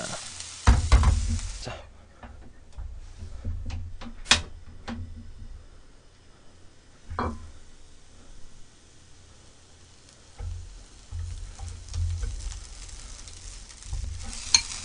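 Onion and green onion stir-frying in oil over high heat for Chinese-style egg fried rice, a low sizzle broken by sharp clacks of a utensil against the pan, with occasional louder bursts and no talking.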